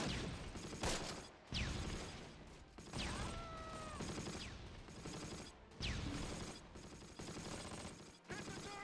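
2 cm cannon shells fire in the Close Combat wargame: repeated heavy bursts and rattling automatic fire, layered with whistling shell sounds, dense and loud throughout with brief lulls.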